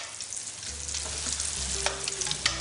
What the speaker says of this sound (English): I just have to hear a potato sizzling in the pan